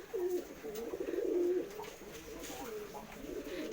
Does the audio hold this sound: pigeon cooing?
yes